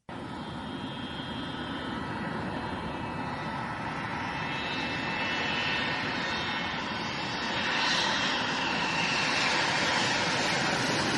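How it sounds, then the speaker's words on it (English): A McDonnell Douglas MD-80 jet airliner takes off with a loud, sustained engine roar that swells and builds over about eleven seconds, with no talk over it. "It takes off like a rocket and makes a heck of a lot of noise doing it."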